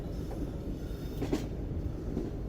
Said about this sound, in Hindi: बस एज के ऊपर चलती हुई ट्रेन हमारी आगे बढ़ेगी